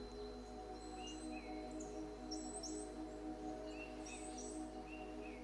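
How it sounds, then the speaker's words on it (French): Birds sing in a quiet nature ambience: faint, scattered high chirps and short trills come and go over a steady low hum, with no voices. "Le chant des oiseaux qui vous entoure."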